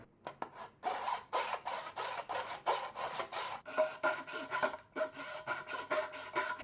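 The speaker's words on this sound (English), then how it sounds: "I got a file." A hand file rasps back and forth across a plastic part from a CB radio setup, close and fairly quiet, in a steady run of short scraping strokes with a brief pause partway through.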